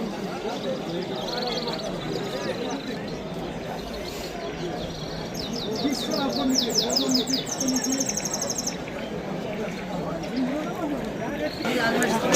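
Small cage birds chirp and tweet in rapid bursts at the Samarkand bird market, mixed into a busy crowd murmur with people talking nearby.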